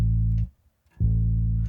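Two sustained bass guitar notes, unprocessed and dry, each held for about half a second with a short silent gap between them, loud and close with no voices.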